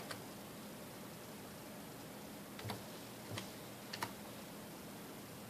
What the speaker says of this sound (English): So I'm going to type in negative.